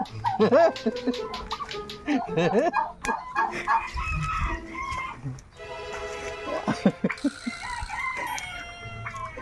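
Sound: turkey gobbling

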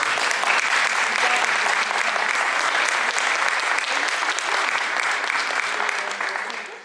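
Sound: audience applause for volunteers

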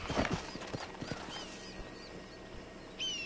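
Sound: horse clip-clop in video game Red Dead Redemption

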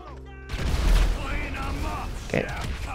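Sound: gunfire and grenade explosions in the video game GTA V

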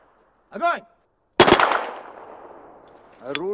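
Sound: gunfire at a shooting range

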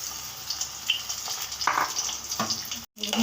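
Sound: batter-dipped malabar spinach leaves frying in oil

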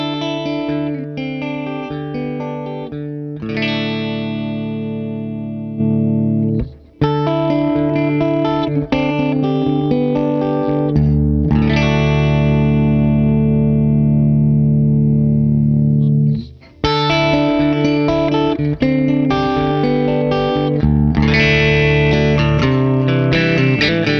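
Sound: guitar through compressor pedal with low cut

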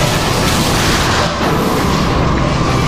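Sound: missile explosion destroying a ship in an anime

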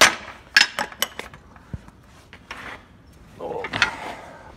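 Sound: knocking with a ball peen hammer

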